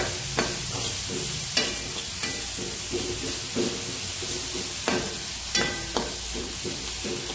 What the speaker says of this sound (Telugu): ఆనియన్ యాడ్ చేసుకుని దాన్ని నీట్గా మనం మిక్స్ చేసుకోవాలి.